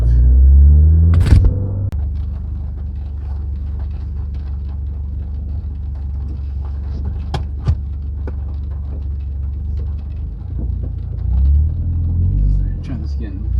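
Interior cabin sound of a 2022 Subaru BRZ fitted with an MXP SP cat-back exhaust, heard from between the seats at head height while driving: a deep, steady low rumble with a brief rev early on and a swell near the end, voices talking over it.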